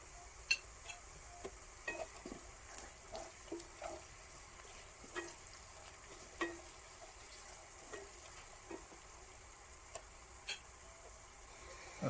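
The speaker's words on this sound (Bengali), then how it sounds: "পেঁয়াজের কালার বাদামি না হওয়া পর্যন্ত ভাজবো এবং সাথে সামান্য পরিমাণ হলুদের গুঁড়া এবং সামান্য পরিমাণ মরিচের গুঁড়া অ্যাড করে নেব" Onions fry with turmeric and chili powder for a Bangladeshi potato bhaji, giving a faint, steady low sizzle broken by scattered soft ticks and clicks of stirring, quiet and close.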